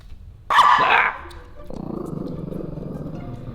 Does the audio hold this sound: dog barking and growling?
yes